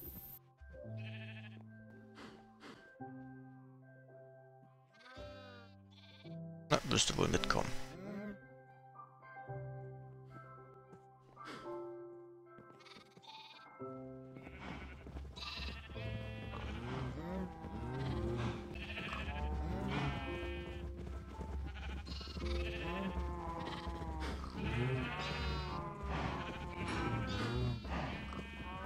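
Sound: sheep bleating in a video game

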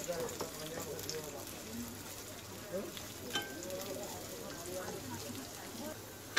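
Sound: sliced onions frying in hot oil

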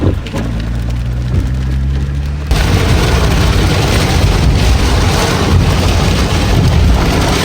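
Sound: rain while riding a courier scooter

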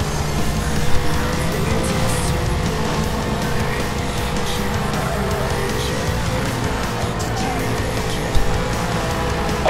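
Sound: car pursuit engines in Need for Speed Hot Pursuit video game

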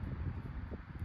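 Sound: strong wind blowing at outdoor shooting range

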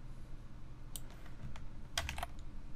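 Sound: computer keyboard shortcut typing

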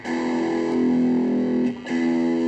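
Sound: electric guitar through distortion pedal

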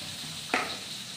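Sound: tofu frying in hot oil

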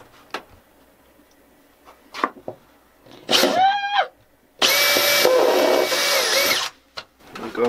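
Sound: power drill drilling a hole

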